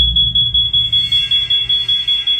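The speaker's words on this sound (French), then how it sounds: "Une alarme retentit" A piercing smoke alarm beeps in a steady rapid pulse, about five beeps per second, loud and close with no voices.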